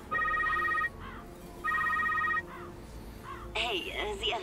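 In the game The Secret World, a telephone rings twice in electronic trilled bursts before a voicemail message begins, a voice starting to speak at the end.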